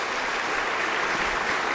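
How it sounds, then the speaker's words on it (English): Short burst of steady audience applause at a customs day ceremony, a dense even wash of clapping from a gathered crowd with no talk over it. "Could we give them a round of applause?"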